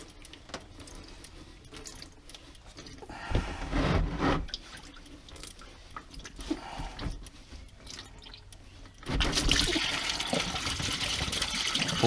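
Coolant drains from the water pump neck of a Subaru Forester in a mechanic's job, with soft irregular trickling and dripping that swells to a heavier, steadier splashing flow toward the end.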